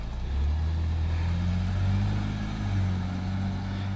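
A wife's new car drives off, its engine revving and accelerating with a steady low rumble that swells and holds, close and loud, with no talking.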